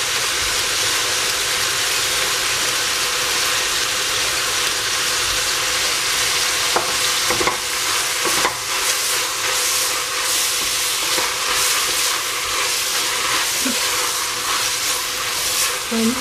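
Carrot, celery and capsicum frying in a pan, a loud continuous sizzle and hiss that runs steadily throughout, with occasional faint stirring clicks and no voices.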